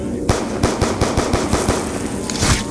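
Rapid automatic gunfire from a weapon in Black Ops 2 Zombies, a fast even burst of about a dozen sharp shots, loud and close.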